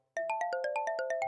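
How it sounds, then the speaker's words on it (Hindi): A phone ringtone plays a quick, evenly spaced run of bright electronic beeps, clear and close, with no voices. "अगली सुबह रोहन का फोन बजा।"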